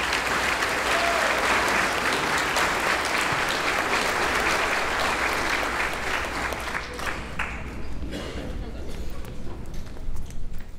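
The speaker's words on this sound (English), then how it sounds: "so give them a round of applause" An elementary school audience at a fifth grade celebration applauds the honor choir with loud, sustained, dense clapping that thins into scattered claps and crowd murmur toward the end.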